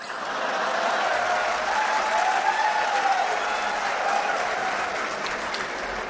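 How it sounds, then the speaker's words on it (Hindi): An audience at a Hindi satirical comedy show breaks into steady, fairly loud applause that swells and holds for several seconds, with a faint voice under the clapping. "व्यंग पर तालियां तो अब आपकी अब उठेंगी"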